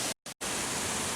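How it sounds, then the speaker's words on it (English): Mae Pan Falls, Chiang Mai's highest waterfall, drops in multiple steps with a heavy, steady roar of falling water, loud and close, broken by two brief dropouts near the start. "There's a lot of water coming down there."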